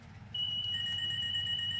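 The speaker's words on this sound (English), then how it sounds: "As you may have seen, my alarm went off" A steady electronic alarm tone sounds in a train cab on the Nova 1 run from Newcastle to Alnmouth, a continuous high beep joined by a second pitch, fairly quiet over a low cab rumble.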